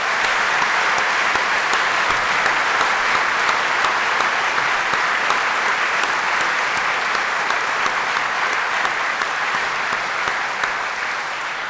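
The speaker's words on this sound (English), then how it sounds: "Let's give them a thank you and an applause, particularly from the audience" A large audience at a university summer graduation ceremony applauds steadily and loudly for the staff, a continuous wash of clapping that barely fades over its length.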